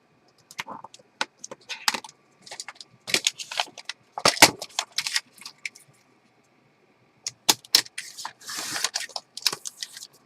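Scissors snipping through journal paper in irregular bursts of crisp, close cuts, with rustling and handling noises between them and brief pauses.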